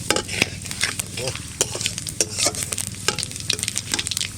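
Dry red chili, bay leaf and cumin spluttering in hot oil for a pomfret fish curry, a close sizzle punctuated by sharp stirring scrapes and clinks of a spatula.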